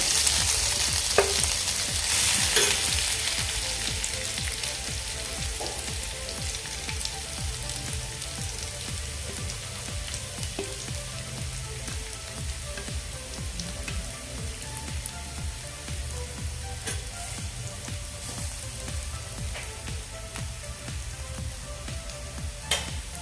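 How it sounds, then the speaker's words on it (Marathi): A bombil fish chutney mixture fries in hot oil over a low flame, making a continuous close crackling sizzle with occasional faint pops, and no voices over it. "तेल आपलं गरम झालेलं आहे आता यामध्ये आपण भोबळीचं मिश्रण घालून घेऊया"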